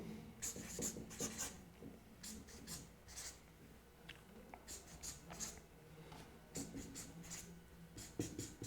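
Marker pen or chalk scratching across a board while a pentane chain is drawn, dry squeaky strokes in short bursts with small pauses, close and fairly quiet.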